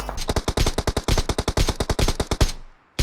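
A rapid burst of video game automatic gunfire, about two dozen sharp, loud, evenly spaced shots over two and a half seconds, then cutting off to near silence.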